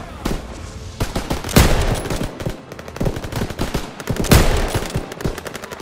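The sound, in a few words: machine guns opening fire in a WWII video game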